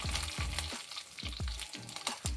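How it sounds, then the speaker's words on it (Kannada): Chillies hit hot oil after garlic, sputtering in sharp repeated pops and crackles over a low sizzle, close and alone. "ಬೆಳ್ಳುಳ್ಳಿ ಆದಮೇಲೆ ಮೆಣಸಿನಕಾಯಿ ಲೋ ಫ್ಲೇಮಲ್ಲಿ ಇಟ್ಕೊಳ್ಳಿ, ಇಲ್ಲಾಂದರೆ ಎಲ್ಲ ಸಿಡ್ಬಿಡುತ್ತೆ."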